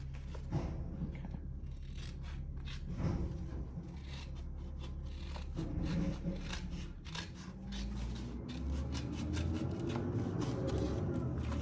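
Scissors snip and trim fabric pieces for a triple-zip crossbody bag, a steady run of close, crisp cuts and rustling cloth with no talking.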